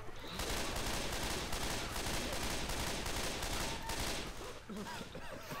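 Left 4 Dead 2 gunfire, dense rapid shooting that fills the scene loudly and continuously, easing slightly near the end, with chaotic game noise and voices underneath.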